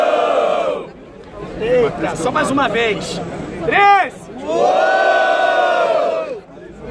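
A rap battle crowd at a Brazilian freestyle event roars and shouts to vote for an MC, with loud waves of cheering and yelling swelling twice, interrupted by an MC's voice talking.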